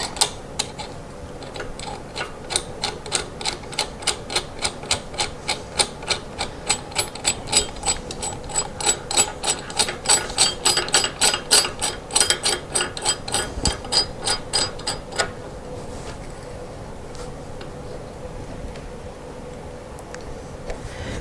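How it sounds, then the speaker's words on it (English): A nut being screwed onto the mounting bracket of a bathroom faucet makes a steady run of rapid, evenly spaced ratcheting clicks for about fifteen seconds, then stops, leaving a quiet room. "We'll grab our nut, screw the nut on like that."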